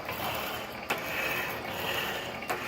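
A 1916 power hacksaw driven by a 1915 Century electric motor cuts through a metal bar, a steady mechanical whir with faint rhythmic clanks from the reciprocating stroke, close and with no talk.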